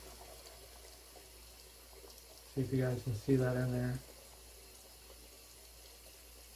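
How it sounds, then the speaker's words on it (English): Water is poured from a tap into a shaving soap bowl for about a second and a half in a few uneven gushes, with a rising, ringing fill tone. Someone speaks quietly around the pour. "put some water in here for you guys"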